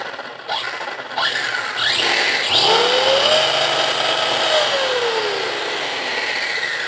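A YiKong 4082 RC off-road truck's electric motor spins up to speed, a loud close whine that rises in pitch, holds, then slowly falls away.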